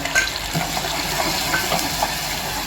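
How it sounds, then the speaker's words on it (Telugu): Onions, green chillies and tomatoes frying in a pan for potato curry, a steady close sizzle with faint stirring scrapes running throughout, no talking. "బాగా ఫ్రై అవ్వాలి."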